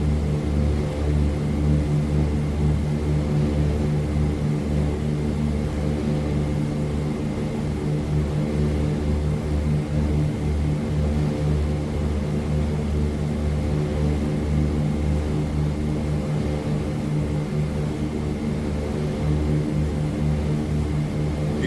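Heinkel He 111 bomber engines drone in Microsoft Flight Simulator, a loud, continuous twin-propeller hum with a deep steady pulse that holds unchanged throughout, with no talking.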